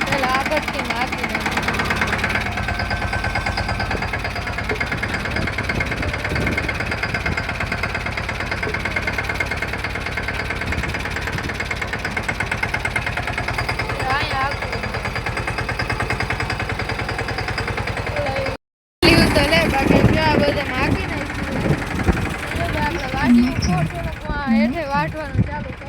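A tractor engine idles and runs nearby with a steady, low mechanical drone and a slight knocking throb, continuing under people talking, briefly cutting out before resuming.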